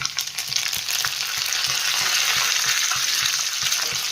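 Onion and chilies fry in a pan with a steady, loud sizzle. Soft stirring taps sound at a regular pace, and no voices are heard.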